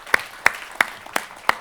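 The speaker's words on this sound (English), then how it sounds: "Please give a big applause for Nicolas Grootjans." At a film-industry conference, a handful of slow, evenly spaced claps ring out, five sharp hand claps about a third of a second apart in a quiet room.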